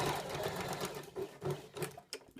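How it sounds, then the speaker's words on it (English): A sewing machine stitches around the edge of a shirt collar in quiet, uneven short runs of whirring stitches, close by and fairly soft. "I'm going to just stitch all the way around the edge here, pivoting when I get to the point there."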